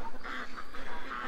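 Ducks on a farm being shut in for the night, a few short nasal quacks in quick succession, close and fairly soft.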